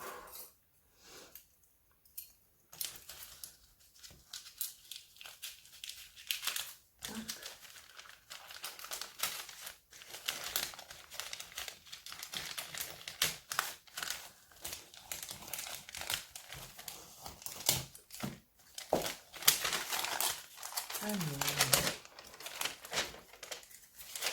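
Crinkly plastic packets of scrapbooking supplies, such as foam stickers, rustle and crackle close by in bursts as they are opened, with occasional scissor snips and tearing sounds between quieter pauses.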